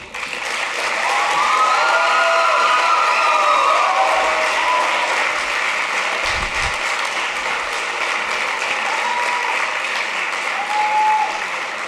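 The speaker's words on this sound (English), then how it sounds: "give thanks to those who have done so much to help them make this day possible with a round of applause" A graduation audience applauds steadily, a dense wash of clapping from a large crowd at a school commencement ceremony, sustained for the full stretch with faint cheers and whistles mixed in.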